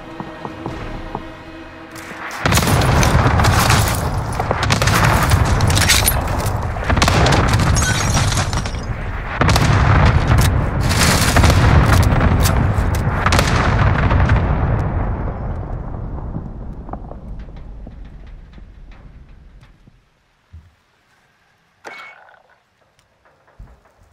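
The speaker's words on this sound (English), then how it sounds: "Strike inbound." Airstrike explosions in Call of Duty Warzone: a dense, loud barrage of booming blasts and crackling bursts rolling on for about seventeen seconds, then tapering into a fading rumble with a few scattered distant pops.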